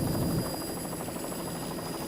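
A helicopter flying over a powerboat race, heard as a steady, continuous rotor buzz with a fast rhythmic chop, moderately loud and unbroken throughout.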